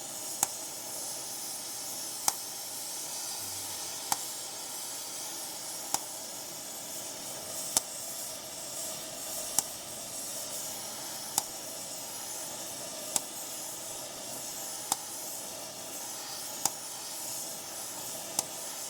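Torch flame heating a coil spring mount on a 2004 Jeep Grand Cherokee gives a steady, broad hiss throughout, with faint regular ticks and no talking.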